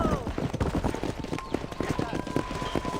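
Horse hooves clopping in the Red Dead Redemption western game while herding cattle, a fast, busy galloping patter throughout, close and steady, with a voice and other game sounds over it.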